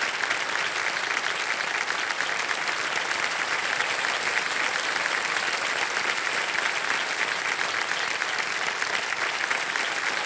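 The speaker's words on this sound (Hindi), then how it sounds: "तालियों के साथ इनका अभिनंदन" A studio audience on the KBC Season 17 quiz show keeps up a long, continuous round of clapping, thick and uniform from start to finish, with no talking on top.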